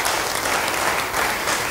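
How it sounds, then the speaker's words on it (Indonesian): Church congregation applauding during a sermon, a dense, steady wash of clapping from many hands, continuous and fairly loud for the whole short stretch with no voices standing out. "Beri tepuk tangan bagi dia."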